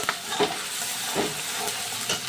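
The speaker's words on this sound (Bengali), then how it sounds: "প্রথমে আমি একটু গোটা জিরে দিয়ে নিলাম, কাঁচা লঙ্কা, পেঁয়াজ বাটা, আদা বাটা, ভালো করে আমি একটু নেড়ে চেড়ে নেব" Whole cumin, green chili, onion paste and ginger paste being stirred in a hot pan, a soft continuous sizzle with a few scraping strokes of the spatula at irregular intervals, close and moderately quiet.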